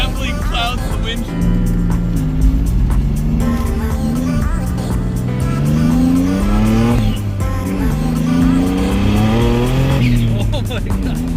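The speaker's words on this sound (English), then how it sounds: "This is taking her for the first rip. See what she can do." Twin-turbo V6 Mustang on its first run after a tune, running rich with black smoke, accelerating hard: a loud, close engine roar rising through repeated gear pulls, with tire squeal and people talking over it.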